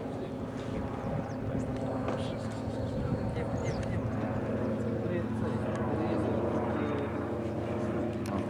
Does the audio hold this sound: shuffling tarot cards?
no